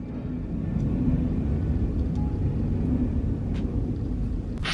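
An airplane flying overhead produces a steady, low, broad rumble that holds at a constant level throughout, with no clear rise or fade.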